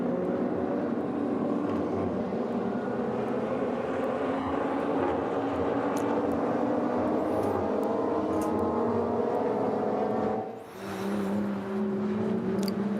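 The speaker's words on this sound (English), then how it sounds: "we're just listening to the sounds of real engines, not digital, but real engines there, Bruce." Real race car engines roar around the Nürburgring GP circuit during a 2020 VLN endurance race, a dense continuous drone of several cars with rising and falling engine pitches and a brief dip partway through, no talking.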